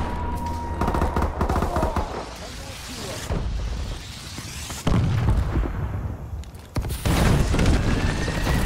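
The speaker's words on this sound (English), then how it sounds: "Friendly missile strikes incoming." Missile strike explosions in Call of Duty: Advanced Warfare: loud, close booms and crackling gunfire in bursts, with heavy impacts near the middle and end and game voices talking over them.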